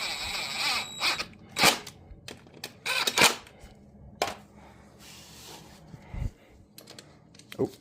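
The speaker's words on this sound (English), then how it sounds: "And then just lightly run these screws in." Screws being run in by hand and then tightened during routine maintenance, heard as a series of sharp clicks and taps in uneven bursts, close and moderately loud, with no talking.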